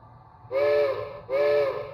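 A Bachmann Spectrum HO scale 2-8-0 Consolidation's DCC sound decoder plays a B&O three-chime steam whistle: two sustained, loud chime blasts, each under a second, with a short gap between.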